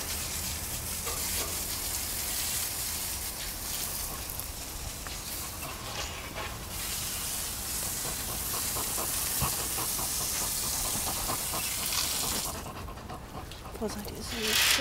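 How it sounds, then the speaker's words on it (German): Porcupines snort and huff in a rhythm likened to a steam locomotive, a steady breathy hissing that runs through the whole stretch, close and fairly loud, with a voice speaking over it. "Schnauft wie eine Dampflok mit Stacheln hinten dran."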